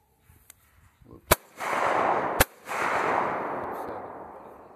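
Shotgun firing at sporting clays outdoors: two sharp, loud cracks about a second apart, each followed by a long rolling echo that fades away.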